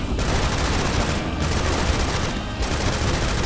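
Sustained AK-47 fire from a first-person shooter, Serious Sam Siberian Mayhem, a dense, loud, continuous automatic burst with no break and no talking.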